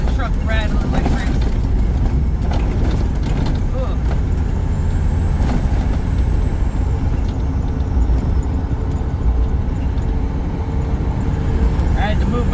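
A truck rattles and rumbles as it takes sharp curves on rough roads: a constant heavy low roar with jolting clatter throughout, close and loud, while someone talks over it.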